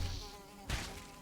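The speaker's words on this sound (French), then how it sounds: "Il vient ou il vient pas? Il vient." A mosquito from the video game Valheim buzzes steadily and close for about a second, with a brief louder swell partway through and no talking.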